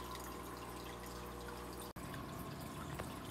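Water streams steadily through a freshwater aquarium being set up for a breeding group of barbatus cory catfish, a continuous close wash with a brief dropout midway and no talking.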